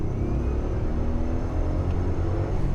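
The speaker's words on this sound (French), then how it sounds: "C'est vrai, on entend les turbos." Inside a moving Mitsubishi 3000GT, a steady loud engine rumble runs with a faint high turbo whine over it, continuous and close.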